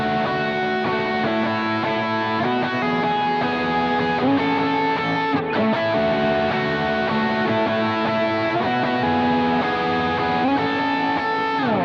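An electric guitar plays worship-style 4/2 diad chord voicings with effects, a continuous ringing progression of two-note shapes moving through chord changes, clear and prominent with no talking.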